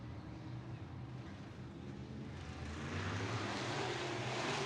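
Sport compact race car engines at a short-track start at Raceway Park, revving up as the green flag drops, a dense broadband engine roar that builds louder toward the end.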